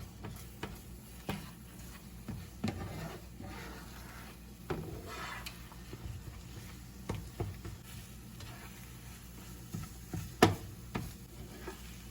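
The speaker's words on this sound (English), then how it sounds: "Just going to fry it up in some butter." Scrambled eggs frying in butter in a pan, with a faint soft sizzle under a few light stirring scrapes and clinks, fairly quiet and without talk.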